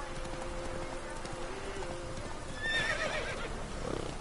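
A horse whinnies amid clip-clopping hooves in The Witcher 3: Wild Hunt, set in the Velen region, the neigh rising clearly over steady game ambience with light rain-like texture.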